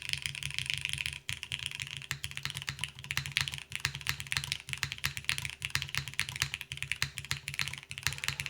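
Steady, fairly quiet typing on a Malvix Moonlight mechanical keyboard fitted with PBT keycaps, a dense run of crisp, rapid keystroke clicks with no talking.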